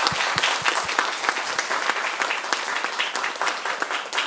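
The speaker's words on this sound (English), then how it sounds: "So let's just give a round of applause." Audience applause closing a space-mission event, a moderately loud patter of clapping with a few distinct sharp claps at the start, sustained steadily throughout with no speech on top.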